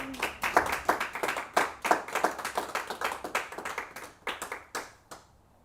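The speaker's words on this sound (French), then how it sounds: "Applaudissons pour Jésus." A church congregation claps for Jesus during a sermon, a close run of many sharp hand claps in a quick, fairly steady rhythm that thins out and stops near the end.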